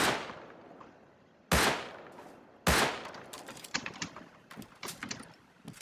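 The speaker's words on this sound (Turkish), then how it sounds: "Taret sıkıyor." Automated turret firing in a survival video game: three sharp, distant-sounding shots with decaying tails, followed by a faint rapid patter of lighter shots.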